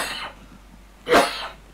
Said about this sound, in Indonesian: Batuk sikit lah.